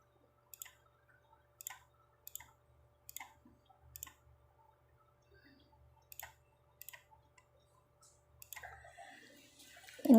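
A computer mouse clicks in sharp, quiet single and double taps at irregular intervals while working in LTspice circuit software, alone in a silent room, ending in a brief rustle.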